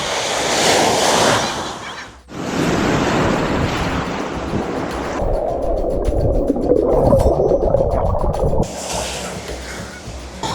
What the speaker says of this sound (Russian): Во время съемок были волны.